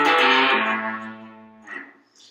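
Short beginner minor pentatonic lick on a distorted electric guitar: a bright bent note rings out and slowly decays, followed by a brief picked flourish, close and alone.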